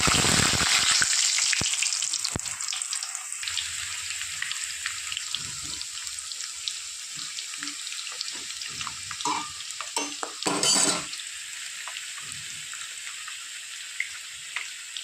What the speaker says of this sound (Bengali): তেল গরম হয়ে গেছে, আলু ছেড়ে দেব